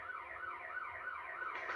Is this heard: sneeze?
no